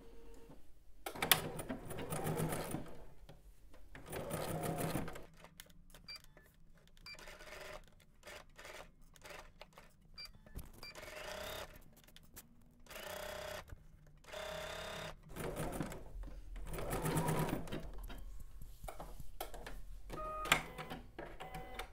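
Bursts of sewing machine stitching as garment yoke pieces are sewn together, rapid close mechanical chatter starting and stopping with quiet pauses between runs.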